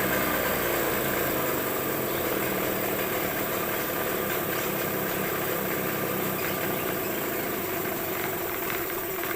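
A Yamaha 15 Enduro outboard boat engine idles continuously during flushing, with a low, even rumble and slight vibration, close by and unchanging, with no voices.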